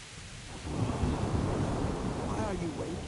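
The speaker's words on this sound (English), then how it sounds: "that was loud thunder" Thunder in Kingdom Come: Deliverance rolls in as a loud, deep rumble, swelling after a brief quiet start and sustaining with rain-like hiss until the end.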